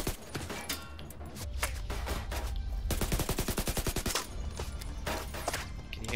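Gunfire in The Division 2 on PS4 Pro, with shotgun blasts during a side mission. Dense, continuous shooting runs throughout, including a rapid rhythmic burst midway, with layered loud reports and no talk.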